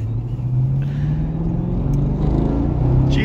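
A 2010 Chevrolet Camaro SS V8 rumbling loud and close, its engine note holding a steady low idle-to-rev drone that swells slightly toward the end, with no talking.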